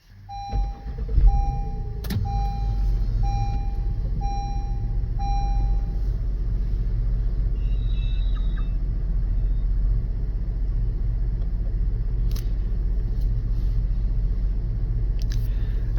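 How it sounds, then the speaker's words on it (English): A vehicle with a newly installed dash cam is started inside the cabin, a few electronic beeps and clicks followed by a steady low engine rumble idling throughout, no talking. "let's go ahead and start the vehicle."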